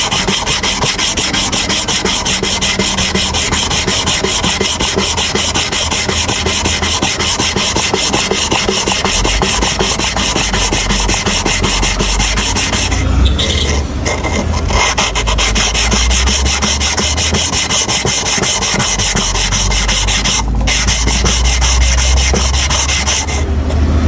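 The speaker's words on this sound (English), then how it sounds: "So we are sharpening the cutting blade now." A clipper cutting blade is worked back and forth on a sharpening stone coated with paste and oil, giving a loud, steady, continuous rasping scrape with a brief pause midway and no talking.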